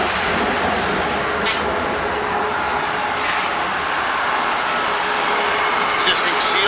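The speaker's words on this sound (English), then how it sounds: "You can see the torrent, how it pulls the material back into the impeller" A Breddo 200 gallon Likwifier mixer, about half full, violently churning liquid back into its impeller on 220 V, a loud continuous rushing roar like surf, steady and close throughout.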